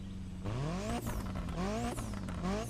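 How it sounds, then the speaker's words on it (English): In The Crew Motorfest video game, a car engine revs up repeatedly, its pitch sweeping upward in three rising surges with gear-like drops between them, loud and steady throughout. "So if I rev the engine, it actually, like, synchronizes."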